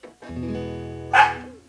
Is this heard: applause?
no